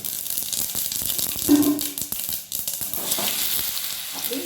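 Loud, crackling sizzle of mustard seeds, curry leaves, sesame seeds and asafoetida hitting hot oil for a dhokla tempering, with rapid popping and spattering throughout and no talking.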